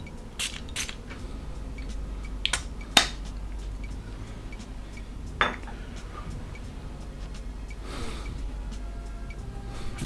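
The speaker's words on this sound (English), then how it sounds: "Just going to do one spray." A single quick hissing spritz from a Chanel 1957 eau de parfum spray bottle, preceded by scattered small clicks and taps of handling.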